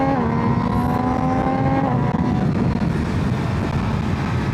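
MV Agusta Brutale 800RR motorcycle pulling hard after a downshift: a strong, steady engine drone with rising then shifting tones, wrapped in loud wind noise at riding speed.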